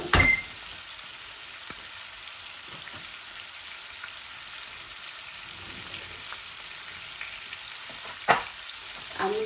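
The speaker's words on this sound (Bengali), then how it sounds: "আমি মাছগুলারে বেশি বাজিতাম না, আমি ও একটু চপিস করে নামাই দিই।" Tilapia fish sizzles and fries in a pan, a steady close crackle with a few sharp pops and faint stirring clinks throughout.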